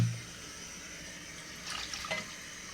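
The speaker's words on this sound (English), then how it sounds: "Then you add in water to use cook the fish." Water pours into a cooking pot for fish in an okra soup, a soft, steady splashing rush close by that swells slightly toward the end, with no voices.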